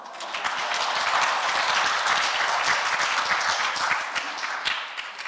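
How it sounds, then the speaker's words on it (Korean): An audience at a Wednesday morning lecture on AI-era survival strategy breaks into sustained applause, a dense even wash of many hands clapping throughout with no voices. "박수 안 쳐요?"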